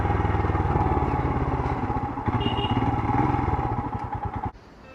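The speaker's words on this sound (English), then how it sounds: "I really love the sound of this engine." A Royal Enfield Himalayan BS6 motorcycle engine runs close by with a steady, throbbing low-pitched beat that rises briefly, then cuts off near the end.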